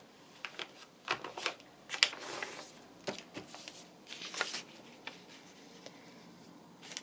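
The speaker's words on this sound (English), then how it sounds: "And I'll fold it." Paper being folded into signatures for a handmade journal makes soft, close rustles and sharp creasing swipes in irregular bursts, with quieter gaps between them and no speech.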